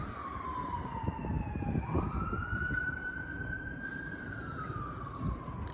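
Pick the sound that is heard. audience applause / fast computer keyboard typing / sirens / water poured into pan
sirens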